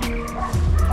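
A dog gives short yips and bow-wow barks close by outdoors near an abandoned house in La Sagesse, St David, Grenada, with a low rumble of a passing car in the background.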